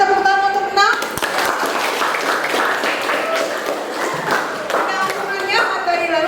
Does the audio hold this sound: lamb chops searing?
no